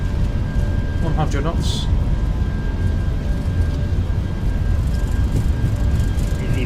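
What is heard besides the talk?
British Airways Airbus A319 engines spooling up for takeoff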